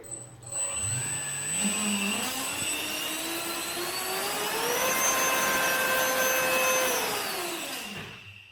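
Dynam 70 mm electric ducted fan on a 4S battery spooling up from idle to a loud, piercing whine, rising in steps, holding at full power, then winding down near the end, close by with no talk.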